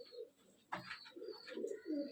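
Pigeons coo softly in a loft, a few low murmuring calls close by with a brief rustle or flutter partway through, fairly quiet overall.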